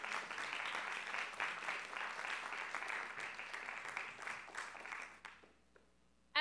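Audience applause at a public administration panel in Guadalajara, a dense, steady wash of many hands clapping for about five seconds before fading out, then a sudden sharp sound at the very end.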